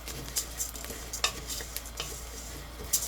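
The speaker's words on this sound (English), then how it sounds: "we have some definite browning going on here" Rice pilaf browning in an Instant Pot on sauté, with a soft continuous sizzle under repeated scraping taps of a spoon stirring the grains, fairly quiet and close.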